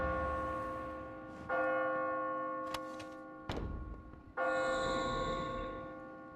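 Bells ring in the fantasy role-playing game Kingdoms of Amalur, three loud sustained tolls with shimmering overtones, each decaying before the next strike, with no talk.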